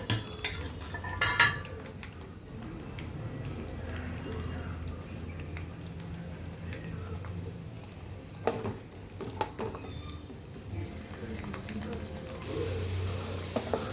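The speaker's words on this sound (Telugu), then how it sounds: "ఇదిగండి ఎల్లుల్లిపాయలు వేస్తున్నా ముందు." Garlic dropped into hot peanut oil for tomato pachadi, sizzling steadily throughout with scattered clinks of a metal utensil against the pan.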